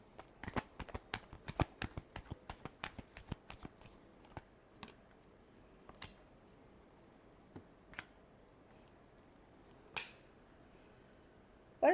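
Tarot cards being shuffled give a rapid flurry of crisp riffling snaps at first, then slow to sparse single taps and flicks; close and fairly quiet, with no talk.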